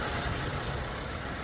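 A 2021 Volkswagen Jetta engine idles steadily under the open hood, heard up close as an even, low mechanical hum with a faint rattle and no voices.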